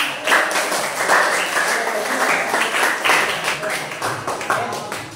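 A classroom of students applauds after group presentations in a lesson, giving a brisk, fairly loud burst of clapping that swells and eases in waves, with voices mixed in.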